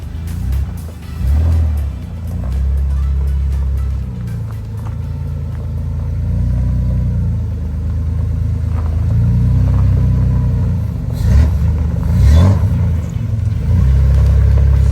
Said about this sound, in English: Test drive up the road.